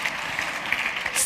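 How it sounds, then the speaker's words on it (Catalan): Audience at an educational conference applauding the Brazilian network, a steady wash of many hands clapping at moderate distance, brief and unbroken. "Doncs un aplaudiment a la xarxa brasilera"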